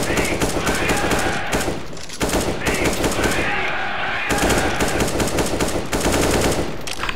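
Sustained automatic gunfire in a CS:GO zombie escape match, loud rapid bursts of shots nearly continuous with brief gaps, under voices talking over the action.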